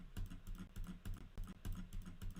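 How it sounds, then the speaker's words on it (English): Rapid, fairly steady clicking of a computer mouse at a desk, close and distinct, with repeated sharp taps in quick rhythm and no voice. "This is me clicking my mouse right now."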